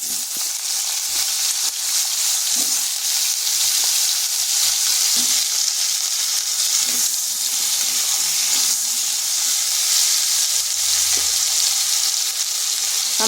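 Potatoes fry in a spoonful of hot oil in a kadai for a vegetarian cauliflower dish, giving a steady, dense sizzle that runs unbroken and fairly loud throughout, with no one talking.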